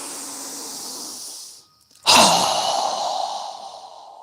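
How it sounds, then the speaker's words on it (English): A strong, breathy exhale in a yoga breathing exercise bursts out loud and close after a brief pause, then trails off slowly; it follows a softer breath. "inhale. Strong exhale."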